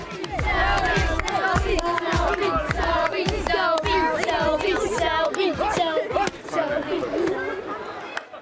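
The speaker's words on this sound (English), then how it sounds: "the people have come out to cheer on their wannabe champ" A crowd at a public boxing workout in a town centre cheers, shouts and chatters loudly and continuously, with excited voices and whoops layered throughout.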